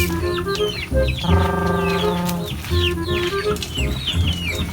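Several chickens cluck and squawk close by in a busy, overlapping flurry, with one drawn-out call standing out in the middle.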